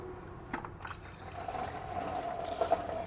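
Coolant drains from a disconnected hose on a BMW 335i and falls into a bucket below, a steady trickle with a faint tonal ring, a few small knocks and splashes, quiet and close, no talk.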